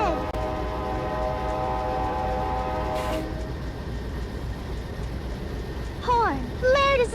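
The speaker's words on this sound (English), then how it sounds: "Horn blared as the train rolled past," A train horn blares as the train rolls past at night, long steady tonal blasts up front, then pitch-bending whistle-like calls near the end over a low rumble of rolling cars.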